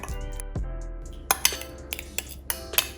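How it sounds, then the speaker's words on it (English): A spoon mixes a banana and turmeric face mask in a bowl, sharp clinks and taps against the bowl sounding at irregular intervals, close up over a low background hum. "Add it to the mixture of the banana, and then you mix this mixture."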